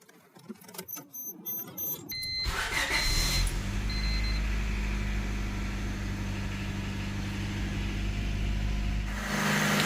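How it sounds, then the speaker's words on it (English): A 1994 Honda Civic with an automatic transmission cranks and fires up after a couple of quiet seconds, then settles into a steady, even idle hum that runs on unchanged while it warms up. "So let's start this engine. Just warm it up and then check it again."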